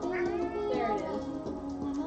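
A cat gives a long, insistent meow that rises and falls, loud and close.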